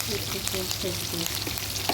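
Onion paste masala with curry leaves frying in a pan for brinjal masala karam, a steady close sizzle and hiss throughout, with a faint melodic tone running beneath.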